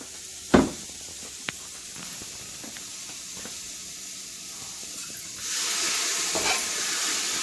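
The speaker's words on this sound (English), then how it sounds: "we're going to go ahead and deglaze the pan." Red Bordeaux wine hits a hot pan of braised short ribs to deglaze it, giving a soft sizzle with a few sharp clinks early on, then a louder, steady hiss that swells over the last couple of seconds.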